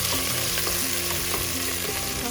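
Prawns frying in a pan for a creamy pasta dish, giving a loud, steady, close sizzle with faint scraping of stirring underneath and no voices.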